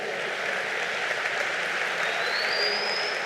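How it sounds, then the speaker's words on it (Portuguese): Steady, moderately loud applause from a church congregation, an even wash of clapping held for a few seconds with a faint rising tone creeping in near the end. "se eu fosse você, eu dava uma salva de palmas agora"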